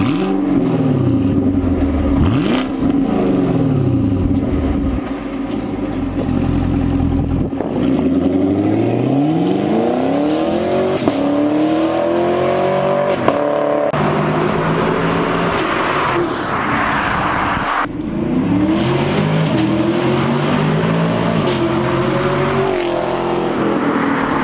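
A 2018 Chevrolet Camaro SS Redline V8 pulls away and accelerates hard, its loud engine note rising and falling through repeated revving sweeps and gear changes, heard close and continuous with no talk.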